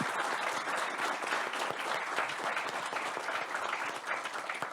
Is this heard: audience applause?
yes